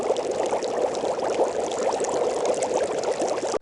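Water boiling sound effect loop: a steady, dense bubbling and churning of boiling water, even and continuous throughout, close and fairly loud, stopping abruptly at the end.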